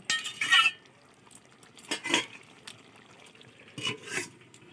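Clinking of a utensil against a pot as fried katla fish heads are stirred into a murighonto, with three short bursts of metallic scraping and knocks over a quiet kitchen background.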